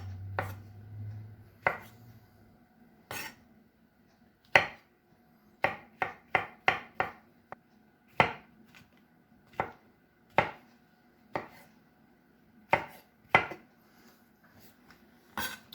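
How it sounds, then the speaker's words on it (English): A knife chops mushrooms on a cutting board, cutting them into smaller pieces as beef and mushrooms with green beans are prepared. The sharp, close knocks come in irregular single strikes and quick bursts, with no voices. "Mushrooms chopped up."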